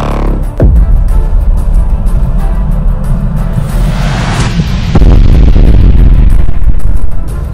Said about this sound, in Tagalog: bigla na lamang sumabog ang katawan ni Guerrero